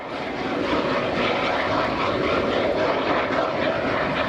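A bamboo rocket firework tears through the air with a continuous broad rushing roar, steady and loud for several seconds, without pause.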